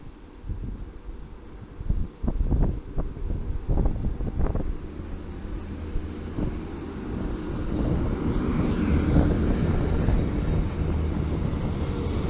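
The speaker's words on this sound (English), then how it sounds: "it's quite windy today" Steady wind rumbles and buffets against the microphone, with a low roar building toward the end and a few brief gusty thumps early on.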